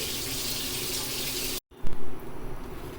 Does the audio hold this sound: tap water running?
yes